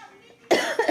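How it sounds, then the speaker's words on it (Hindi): A woman coughs two or three times in quick succession after a brief murmur, close and fairly loud in a home setting. "मुझे थोड़ी खांसी हो रही है"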